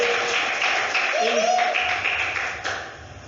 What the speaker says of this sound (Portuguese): Aplauda aí a Babi e o bebê.